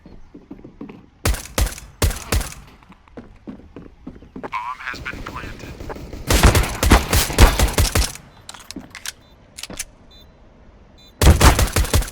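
Gunfire from the video game Counter-Strike: Global Offensive comes in sharp rapid bursts of automatic shots, with several separate volleys and louder stretches between quieter in-game sounds and occasional talk.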